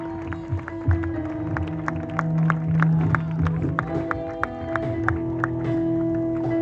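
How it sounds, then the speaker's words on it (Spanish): A church congregation claps during a lively service in Yamasa, with the scattered clapping running steadily under sustained music and a tonal hum. "Fuerte ese aplauso a su nombre, gloria."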